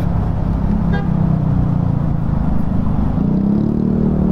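Steady road traffic on the Quezon Avenue flyover in Manila, heard from a motorcycle: a loud continuous engine and traffic rumble with a brief horn toot near the start.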